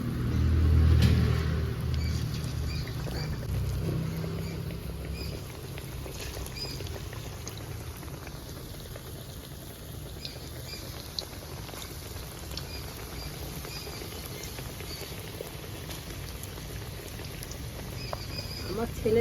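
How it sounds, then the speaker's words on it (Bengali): Small puffed rice pakoras dropped into hot oil, giving a steady close bubbling sizzle with a louder splash of frying near the start, then a continuous crackling patter that carries on with no talk. "আমি এবার তেলের মধ্যে ছোট ছোট আকারে দিয়ে দিচ্ছি পকোড়াগুলো, ভেজে নেব এইভাবে"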